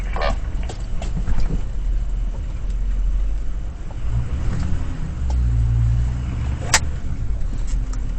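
Car creeping slowly down a slippery slope, low engine rumble with faint tyre and crunching noises, a sharp click near the end, no talking.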